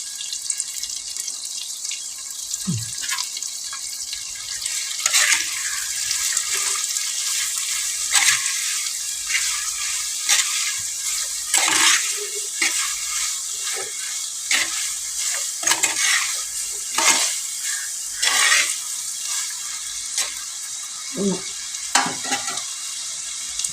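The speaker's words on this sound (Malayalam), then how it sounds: "സവാള ചെറുതായിട്ട് അരിഞ്ഞത് ഇട്ടു" Finely chopped onions frying in a pan give a steady, fairly quiet sizzle, broken by frequent scraping strokes of a spoon as they are stirred.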